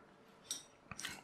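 Scissors snip through thin material while cutting out propeller pieces for a rubber-band floater boat, a couple of short, crisp cuts close by in an otherwise quiet room.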